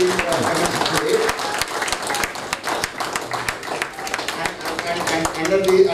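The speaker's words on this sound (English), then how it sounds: "give a standing applause for the women forum being commenced today" Standing applause at the opening of a women's forum at a regional economic meet in Hyderabad, loud, dense clapping from a large crowd, close and continuous for several seconds, with some voices mixed in.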